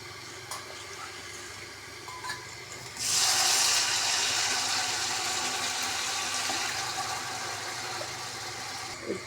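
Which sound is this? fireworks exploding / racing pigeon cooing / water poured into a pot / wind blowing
water poured into a pot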